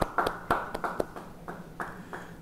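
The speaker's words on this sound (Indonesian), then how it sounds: "beri tepuk tangan bagi dia" Church congregation at a Bible study clapping hands, a handful of sharp, irregular claps spaced over a couple of seconds, fairly close and moderately loud against a quiet room.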